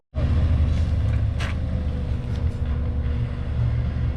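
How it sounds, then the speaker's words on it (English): A forklift doing a burnout, its engine rumbling loud and steady from start to finish, with a few short bursts of tire squeal or scraping along the way. "There's a forklift burnout."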